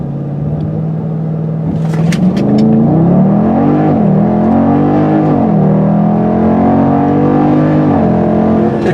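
Dodge Durango SRT 392 accelerating hard from a standstill to 60 mph, a loud, deep engine roar climbing in pitch through several gear shifts, heard close from inside the cabin.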